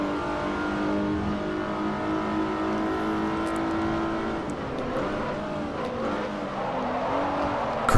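Renault car engine in Forza Motorsport 4 pulling hard off the line, a loud continuous harmonic drone that holds steady then shifts pitch through gear changes, with no talking over it.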